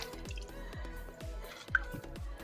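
Cooked raw mango being squeezed by hand in water, giving a run of repeated soft wet squishes and drips in a steady rhythm, close and moderately loud with no talk.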